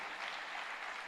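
Church congregation clapping to welcome newcomers, a steady dense wash of many hands applauding together for about a second, fairly faint and even with no pauses.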